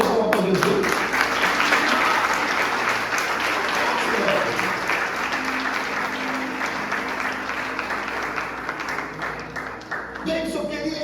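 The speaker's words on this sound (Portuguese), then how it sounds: "Dá uma salva de palmas para Jesus." Loud sustained applause from a church congregation at a youth service, dense rapid clapping filling the space, with voices and cheers mixed in and a speaker resuming near the end.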